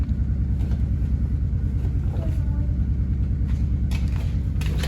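A Polaris Sportsman 500 ATV idling close by, a steady low pulsing engine rumble with rapid even firing beats, some wind buffeting on the microphone.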